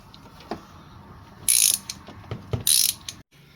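Ratchet with a swivel and socket working a spark plug on a 2013-2024 Subaru Outback 2.5 FB25 engine: a few short close clicks, then two quick bursts of rapid loud ratcheting, with no talk.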